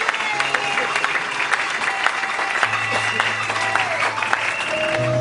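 A church congregation applauds and cheers loudly and continuously, with sustained clapping, shouts and ringing tones in the background.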